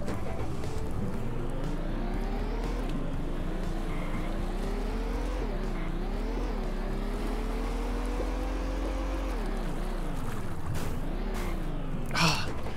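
A car in the Slowdrive racing game, driven by a sloth, hums steadily with a looping engine drone that rises and falls in pitch as it accelerates and eases off, close and continuous, with a sharp knock near the end.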